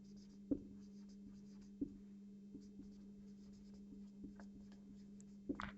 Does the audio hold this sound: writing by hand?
yes